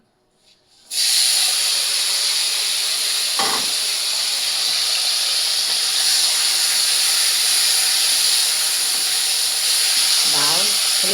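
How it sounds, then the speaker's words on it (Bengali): Small mola fish drop into hot oil for frying, bursting into a loud, steady hiss and sizzle close by that continues without a break, with brief clinks of a utensil. "তেলটা গরম হয়ে গেছে একটু ভেজে দিই তাড়াতাড়ি হবে"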